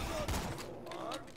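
Bursts of gunfire from the video game Borderlands 2, several rapid shots crackling over background game audio and music at moderate level.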